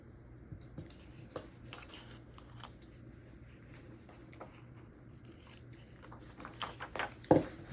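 Quiet, sparse snips and crisp clicks of scissors cutting paper, with a sharper, louder snip near the end and soft rustling between.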